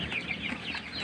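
Chickens clucking close by in a farmyard, soft repeated clucks in an uneven rhythm at moderate volume, with no talking.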